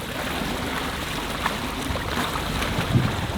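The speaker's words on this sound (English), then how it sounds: "Check out the wake this thing is throwing off back here." East Cape EVO boat running through water, throwing a wake behind it, with a steady broadband wash of water and wind noise and a faint motor underneath, continuous and fairly close throughout.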